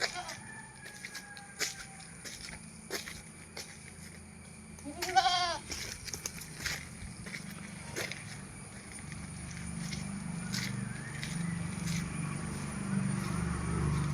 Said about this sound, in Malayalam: ഒരു ബീറ്റൽ ക്രോസ് മുട്ടൻകുട്ടിയും ഒരു ബീറ്റൽ ക്രോസ് പടക്കുട്ടിയും കൂടി 15700 രൂപ